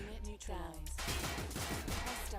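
Rapid machine gun bursts crackle in the tactical shooter Frozen Synapse, dense repeated fire filling most of the moment while someone talks over it.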